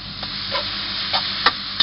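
Minced pork stir-fried in a wok for Thai holy basil pork, a steady sizzle broken by several quick metallic ladle scrapes and clanks, close and clear with no speech.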